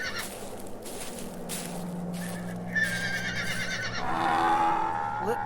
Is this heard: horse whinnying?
yes